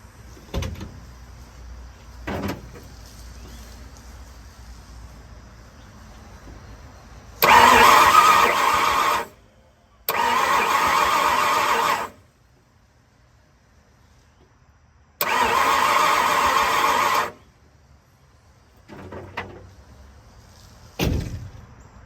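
A 1970 Ford Falcon with a small-block 302 V8 cranks in three loud sustained bursts of about two seconds each, separated by pauses, with quieter clunks and rustles before and after.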